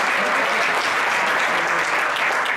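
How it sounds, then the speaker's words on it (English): A theater audience at a Las Vegas theater and library event applauds steadily, a dense, loud wash of clapping that holds without a break for the whole stretch, close and full. "You can clap for them."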